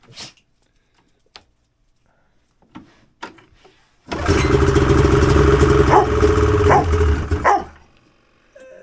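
A vintage Polaris RXL barn-find snowmobile engine, running with a little oil mixed in the gas, fires up after a few faint pulls and runs loud and steady for about three and a half seconds before cutting off.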